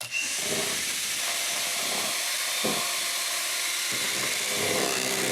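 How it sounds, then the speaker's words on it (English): An electric hand mixer beats wedding cake batter in a bowl, a steady high whirring hiss that dips briefly a few times as the beaters move around the bowl. "Then with her hand mixer again. You need to blend this on low speed first to combine the ingredients, and then increase the speed"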